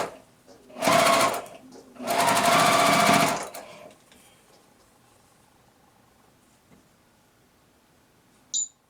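A sewing machine stitching the seam of a rail fence quilt block: two loud, fast-whirring stitching runs, the first short and the second longer, then quiet room tone and a faint click at the end.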